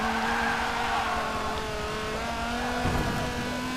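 Dodge Viper GTS engine in the racing game Forza Motorsport 7, a steady loud droning V10 tone holding near constant revs, with a brief rougher tire or gear crunch late on, no talking.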